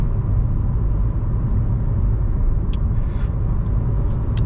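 Steady, loud road rumble and engine drone of a car cruising on a highway on cruise control along Highway 11 near Banff National Park, continuous and unbroken with no speech.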